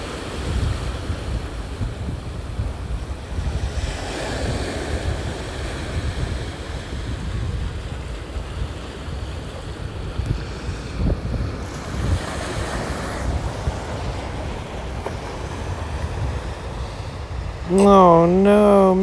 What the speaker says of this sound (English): flowing back into the ocean. Shoop, gets sucked back in. And the waves are like, nope,